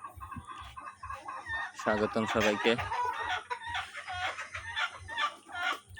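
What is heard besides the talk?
tiger breed chickens clucking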